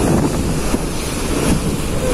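The passenger ship KM Kirana VII runs fast between Surabaya and Lembar, with loud, steady wind buffeting and rushing water from the waves. The roar stays broad and continuous throughout, and no voices are heard.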